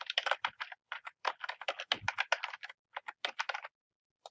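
Rapid keystrokes on a computer keyboard as a web address is entered, clicking in quick bursts with brief pauses between, close and clear with no talking.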